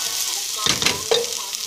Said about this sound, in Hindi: ओके चिकन मातशें तें फ्राय जावपा जाय